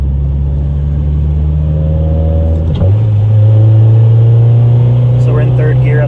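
A 9th-generation Honda Civic Si engine pulls in third gear. The rumble is loud and steady, rising in pitch as it accelerates, then holds a higher drone after a brief shift-like dip.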